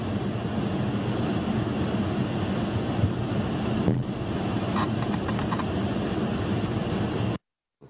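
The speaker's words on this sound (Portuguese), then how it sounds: "a gente vê essas imagens dramáticas da queda do avião em Kuala Lumpur, na Malásia" Audio from an airplane crash in Kuala Lumpur, Malaysia: a loud, dense roar of aircraft and rushing noise continues for several seconds with a sharp burst partway through, then cuts abruptly to silence.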